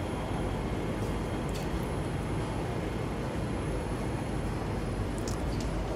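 A Siemens C651 metro train approaching a station platform in Singapore, a steady broadband rumble and rail roar holding constant throughout with faint high squeals near the end, no talking.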